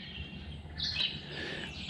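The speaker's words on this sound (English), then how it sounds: "Birds chirping." Birds chirp in woodland, a few faint high calls rising over steady outdoor background, with one brighter call near the middle of the stretch.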